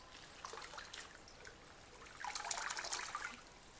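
Water squeezed by hand from washed amaranth greens, a soft trickling and dripping that swells into a steadier patter of runoff in the second half, close and fairly quiet.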